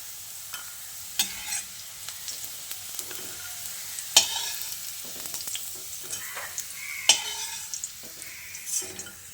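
Potatoes fry in hot oil while a spatula stirs them, a low steady sizzle broken by sharp scraping clatters against the pan every second or two. The stirring is close and there is no talk.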